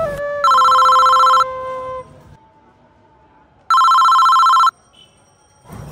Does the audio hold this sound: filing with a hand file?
no